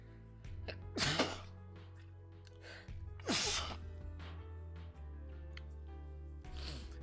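A single sharp human sneeze, then a second burst a moment later, both close and loud over a steady low background hum from a game stream.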